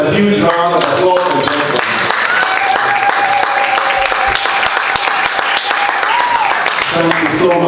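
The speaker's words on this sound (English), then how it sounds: "Please give them a huge round of applause." Guests at a golden jubilee anniversary celebration for a married couple give a loud, sustained round of applause, dense close clapping mixed with cheering voices that carries on steadily for several seconds.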